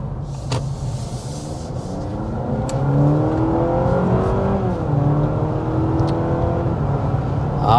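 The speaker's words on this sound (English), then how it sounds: "we are speeding up to 55 miles per hour" A 2026 Honda CR-V Sport Touring accelerating to 55 mph, heard as a steady engine hum that rises gradually in pitch under road and wind noise, with a few faint clicks from inside the cabin.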